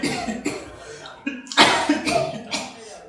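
Several harsh coughs and throat-clearing bursts come in close succession, loud and near, with short breathy pauses between them; a voice speaks around them in a comedic scene.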